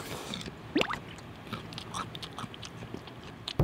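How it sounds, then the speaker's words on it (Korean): Close, wet smacking chewing of someone eating noisily, with soft squishy bites and a few sharper crunches in a quiet room, no talking. "조용히 좀 먹어라, 조용히 좀."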